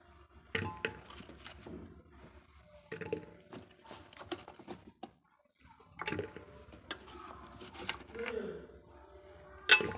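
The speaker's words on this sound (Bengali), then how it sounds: "এই যে প্রেসার কুকারে দিয়ে নিলাম, একটু সিদ্ধ করে নেব।" Beetroot, carrot and potato dropped into a pressure cooker, a series of close clinks, knocks and clatters against metal in irregular bursts, with a voice speaking intermittently in between.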